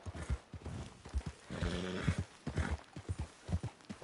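In Red Dead Redemption 2 Online, a horse's hooves clop rhythmically up close while it lets out a loud, drawn-out neigh midway, with snorting and galloping steps continuing around it.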